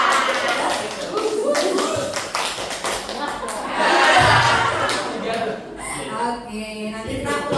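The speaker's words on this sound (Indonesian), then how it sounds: "Nah, tepuk tangan dulu untuk kita semua." During a teacher workshop, a group of participants claps along in short patterned bursts, with someone talking over them and some laughter, the claps fairly close and uneven in loudness.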